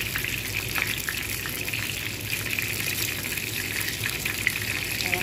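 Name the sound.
vegetable spring rolls (lumpiang gulay) frying in oil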